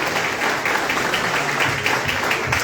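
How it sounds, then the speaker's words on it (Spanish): Audience applauding after a keynote sociology lecture, a steady, moderately loud patter of many hands clapping throughout. "Damos nuevamente un fuerte aplauso por esta conferencia magistral."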